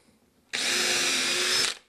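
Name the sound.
power drill drilling through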